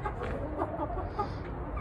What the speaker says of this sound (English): that's my Pama hen